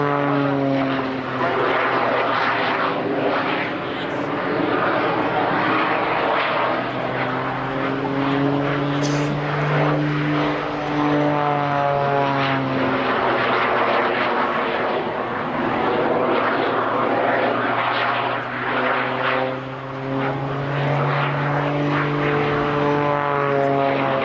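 A Jet Pitts aerobatic biplane performing climbing and descending manoeuvres at the Cosford Air Show, its engine a loud, continuous drone with a shifting, wavering pitch throughout, heard alone without talk.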